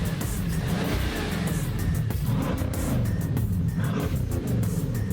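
A Bugatti Chiron Pure Sport with an 8-litre W16 and 7-speed dual-clutch gearbox accelerates hard in a drag race, a loud sustained engine roar rising through the gears with brief dips at the shifts, heard close and alone.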